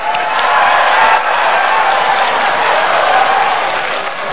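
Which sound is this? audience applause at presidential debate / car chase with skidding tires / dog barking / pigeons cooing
audience applause at presidential debate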